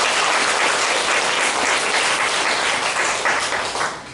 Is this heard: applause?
yes